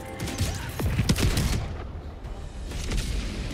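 Enemy artillery firing in Helldivers 2: a cluster of rapid heavy booms and cracks, fairly close and loud, fades into a rumbling lull before further distant blasts, with no talking.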